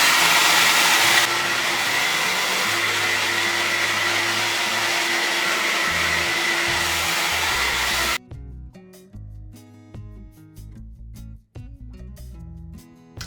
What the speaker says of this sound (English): just going to grab the hairdryer and just keep blowing at it until it's dry